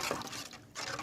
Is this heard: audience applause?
no